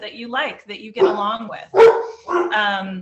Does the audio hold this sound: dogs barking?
yes